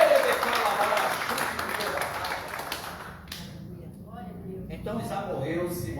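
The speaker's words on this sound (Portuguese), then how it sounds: "Quem crê que Ele é imbatível, dá uma salva de palmas para Jesus de Nazaré." A church congregation applauds in a sustained wash of clapping that dips briefly midway, then picks up again with a voice over it.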